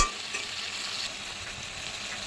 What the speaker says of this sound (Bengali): চিনি দিয়ে ভালো করে একটুখানি নেড়ে চেড়ে মিশিয়ে নিচ্ছি